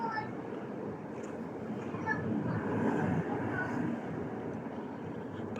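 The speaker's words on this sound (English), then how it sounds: "you can hear the train going past" A train rumbles past near a viaduct in Castlefield, a broad low steady roar that swells and eases over several seconds, with faint voices around.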